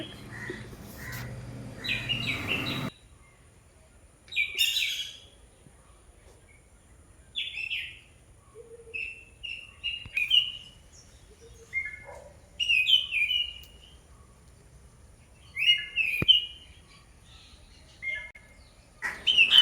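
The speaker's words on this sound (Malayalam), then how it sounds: "പല ഇനം കിളികളുണ്ട്" Several kinds of birds chirp and whistle in scattered, varied calls over a quiet, still background, some nearer and some farther away, in a rural Kerala home setting.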